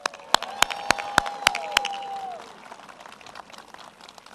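Crowd at a political campaign rally applauds and cheers, with sharp loud claps standing out over a steady wash of clapping that fades after a couple of seconds.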